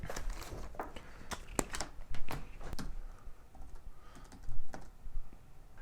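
Fingers type card details on a computer keyboard in a brisk run of close, crisp key clicks with small pauses, alone with no talk.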